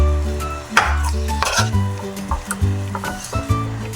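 Grated coconut is stirred through melted jaggery in a pan for a sweet filling, giving soft scraping and sticky stirring strokes with a light sizzle under background music.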